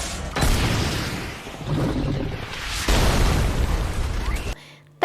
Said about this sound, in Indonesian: Penembakan itu pun menyebabkan ledakan yang cukup besar